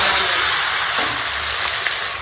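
Bottle gourd greens go into a hot karahi of oil tempered with black cumin (kalo jeere) and green chilli, giving a steady, loud broadband sizzle and hiss with no talking.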